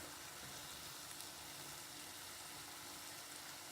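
Sauce sizzles steadily in a pan as it is stirred, a quiet, even hiss of frying with faint scraping, continuous throughout and without any voices.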